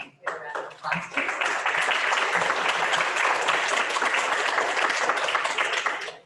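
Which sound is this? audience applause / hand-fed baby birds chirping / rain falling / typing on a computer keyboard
audience applause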